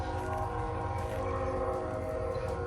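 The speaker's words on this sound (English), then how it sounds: "I can hear that train, it's really loud." A loud train passes nearby, a continuous rumbling roar with tonal ringing from the rails that fills the short clip steadily, with no voices over it.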